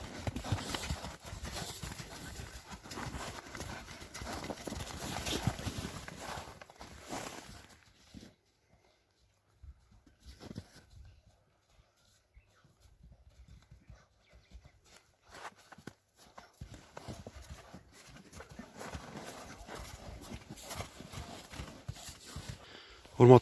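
Horses trot and walk on a rural farm in Kyrgyzstan, hooves clip-clopping in uneven rhythm at moderate distance, fading to near silence midway before resuming, with people talking at times.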